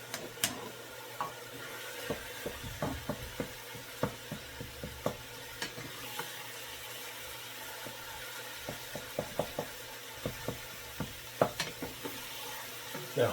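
Beef stroganoff frying in butter in a pan, a steady sizzle with scattered stirring clicks and scrapes throughout, close and moderately loud.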